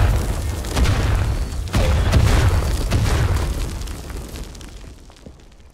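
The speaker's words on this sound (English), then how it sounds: "Bomb in the trench." A bomb bursts nearby in a World War I trench in the game Tannenberg, a heavy booming blast with a second thud that rumbles on and slowly fades out over several seconds.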